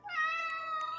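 A cat gives one drawn-out, fairly clear meow close by, lasting about a second with a slight rise and fall, alone in a quiet room.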